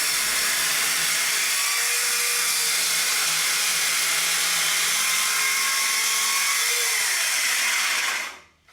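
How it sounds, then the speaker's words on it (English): Power saw cutting wooden shed rafters: a loud, continuous buzzing whine held for several seconds, close by, then winding down abruptly at the end. "Here you see me cutting out the rafters."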